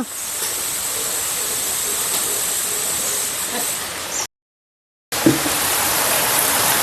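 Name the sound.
heavy rain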